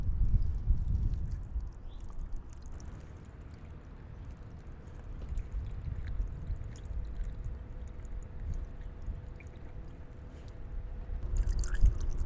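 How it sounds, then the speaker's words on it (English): Windshield washer fluid pours through a funnel into the washer reservoir in the cowl area of a BMW i8, making a soft, steady gurgling trickle close by for several seconds. "Now pour some washer fluid on the funnel to refill it."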